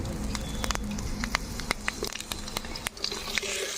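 Dried red chilies and five-spice tempering sizzle in hot oil for a Bengali rui fish dish, with a steady close crackle and sharp pops scattered throughout.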